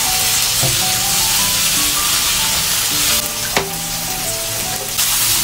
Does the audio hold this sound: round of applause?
no